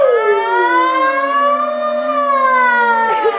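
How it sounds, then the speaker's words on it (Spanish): A loud, steady wailing siren rises and falls slowly in pitch, rich with harmonics, sounding continuously throughout without any voices. "Haga la, la sirena, la alarma."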